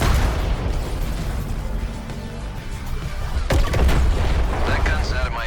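Booming artillery fire and explosions in the video game Suicide Squad: Kill the Justice League, a rumbling continuous barrage with a sharp blast partway through, under a speaking voice.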